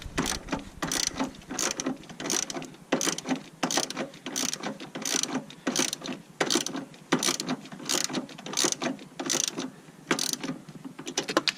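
A ratchet with a deep 13 mm socket loosens a battery hold-down bolt on a 2003–2007 Chevrolet Silverado/GMC Sierra, giving close, repeated bursts of quick clicking as it swings back and forth.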